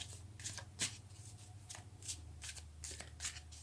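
Tarot cards being shuffled and drawn by hand, a soft, close riffling in several quick bursts over a faint steady hum.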